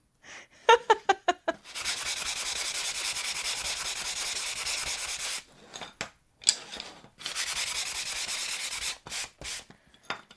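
Wood is sanded by hand: a few quick scrapes open, then long stretches of steady rasping rubbing, broken by short pauses and resuming, close and fairly quiet.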